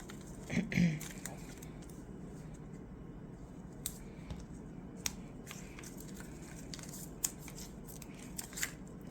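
Scissors snip through sticky paper in short, sharp cuts at irregular intervals, with faint crinkling and handling noises between them and a quiet background hum.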